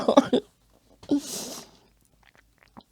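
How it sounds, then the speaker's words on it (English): A couple of short coughs up close, followed by a breathy exhale and then near silence. "Oh, and I'm also going to cough."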